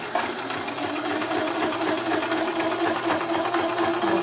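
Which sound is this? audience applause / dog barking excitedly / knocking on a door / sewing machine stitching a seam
sewing machine stitching a seam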